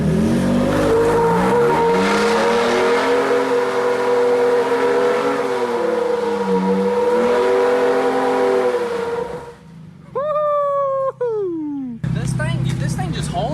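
Heavy engine roar of a truck spinning its tires under load in a pulling test while making smoke, loud and sustained with shifting pitch, then cutting to a whistle-like whine and more engine noise; voices talk over it.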